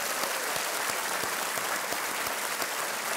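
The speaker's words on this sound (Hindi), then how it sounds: "जोरदार तालियों के साथ स्वागत किया।" Dense, steady applause from a game show studio audience welcoming contestants on Kaun Banega Crorepati, a continuous wash of clapping with no pauses.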